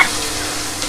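Onions fry in a hot pan for mutton paya, giving a brief, close sizzle with a soft stir stroke, steady and unaccompanied by speech.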